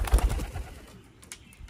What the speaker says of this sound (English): That right there is our splayed foot bird.